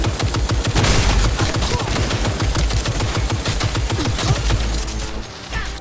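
Sustained rapid gunfire in the Cyberpunk 2077 video game, dense overlapping automatic bursts with booming low thuds running loud and nearly unbroken for several seconds, easing slightly at the very end.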